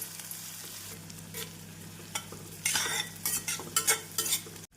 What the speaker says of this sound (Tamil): பொடியாக நறுக்கிய வெங்காயம் வெங்காயம் நன்றாக வதங்கவும்